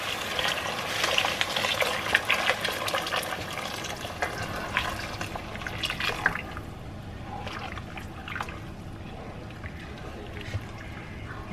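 Four cups of hot broth poured into rice in a pot, a loud close splashing pour for several seconds that thins to a light trickle, with faint background noise.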